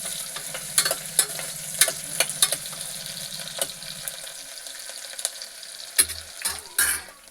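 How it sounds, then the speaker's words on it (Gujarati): Chopped onions fry in hot oil for Gujarati vaghareli khichdi, a steady sizzle broken by sharp spoon taps and scraping against the pan, with a few louder clatters near the end. "ડુંગળીને આપણે સારી રીતે તેલમાં શેકી લેવાની"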